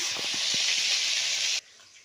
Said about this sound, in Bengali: মাছের মাথাটা ভেজে নিচ্ছি